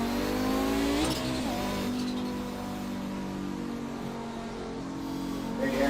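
A race car's turbocharged engine in the iRacing sim roars loud and close, revving up and shifting, with a steady high engine drone and brief tire noise.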